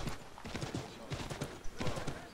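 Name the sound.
horse hooves clip-clopping in video game Assassin's Creed 3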